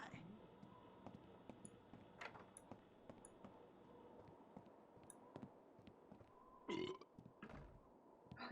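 A Sim burping in another Sim's face in The Sims 2, a short throaty belch rising briefly out of a quiet backdrop of light clicks and game sounds, with a voice talking faintly in places.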